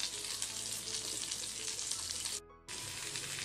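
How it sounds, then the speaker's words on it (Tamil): Curry leaves sizzle and crackle in hot oil in a kadai, a loud, dense frying hiss that dips briefly in the middle and then resumes at full strength. "இப்போ கடாயில் எண்ணெய் காஞ்ச உடனே கருவேப்பிலையை போட்டு"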